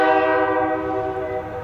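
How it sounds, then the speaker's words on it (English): A loud, sustained multi-tone horn from an iron ore freight train coming around a wye near Escanaba, Michigan, sounding steadily and close throughout, alone with no other sounds. "another iron ore train, the U-745, is coming around the Y from Gladstone"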